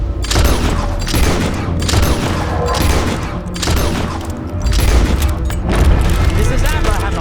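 Gunfire booms in the video game Red Dead Redemption II, with loud repeated shots and volleys layered over game voices throughout.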